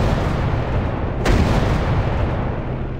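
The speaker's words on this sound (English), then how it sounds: "Dropping bomb." A bomb blasts in a WW1 warplane combat game: one sudden booming burst rises out of a steady roar of engine and wind noise, then fades back into the rumble.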